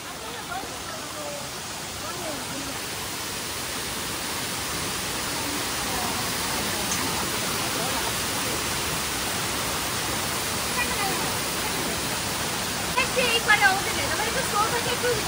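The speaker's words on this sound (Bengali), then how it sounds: "জলটা এখান দিয়ে আসছে এই যে, আর এই জলটা এখান দিয়ে চলে যাচ্ছে" Water rushes past in a stream or small waterfall near Pokhara, a steady broadband roar that stays close and even throughout, with a few faint clicks near the end.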